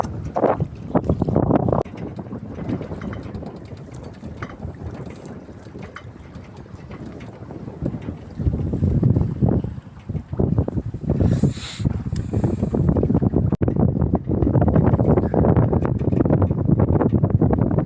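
A sailboat beats into a strong headwind along the Brittany coast, with loud, gusting wind buffeting the microphone over the hiss and slap of water against the hull, swelling louder toward the end.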